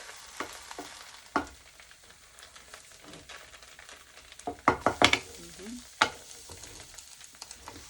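Meat for burritos frying in a pan, a quiet sizzle broken by several sharp clatters and scrapes as the pieces are turned with a utensil, busiest in the middle stretch.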